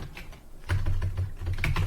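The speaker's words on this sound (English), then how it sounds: "I'll just type my name" Quick, close clicks and clacks of keys on a computer keyboard come in a fast run, fairly loud, as a short name is typed in.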